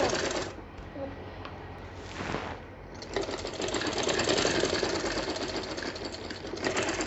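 A sewing machine stitches folded fabric, a steady, fast mechanical whirr and needle chatter that pauses briefly near the start, then runs continuously and close.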